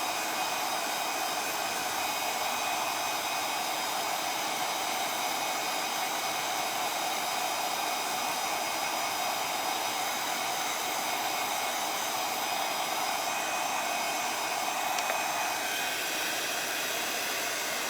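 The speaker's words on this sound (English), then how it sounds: "it will take longer with a hairdryer" A hair dryer runs continuously, a steady loud airy whir with a constant motor hum that holds unchanged for the whole stretch, alone with no voices.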